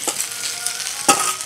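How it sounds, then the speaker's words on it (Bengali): Fried eggs being stirred into chow mein in a pan, with a steady low sizzle broken by a couple of short scraping stirs, close and moderately loud. "সাথে ভাজা ডিমগুলো মিশিয়ে দিচ্ছি"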